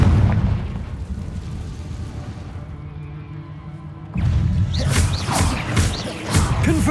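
Confringo explosive spell going off in a wizard video game: a dense burst of booming, crackling blast noise after a quieter rumbling stretch, loud and close with layered sparkling debris.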